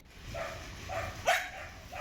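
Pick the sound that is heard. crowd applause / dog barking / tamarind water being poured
dog barking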